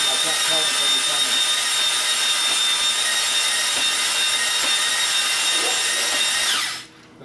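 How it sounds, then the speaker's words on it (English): An electric drill motor drives a hone inside a cylinder of a 5.7L LS Chevy engine block, a loud continuous whine with a grinding scrape that labors, then winds down and stops near the end. "You can hear the motor dragging."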